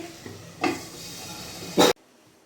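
Taro and prawn curry with chilli paste stirred in a pan: a brief soft sizzle, then a louder scraping stir that stops abruptly into near silence.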